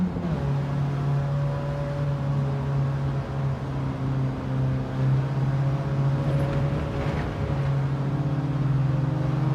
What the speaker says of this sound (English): is the engine loud enough, by the way, guys?